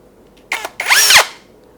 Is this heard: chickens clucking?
no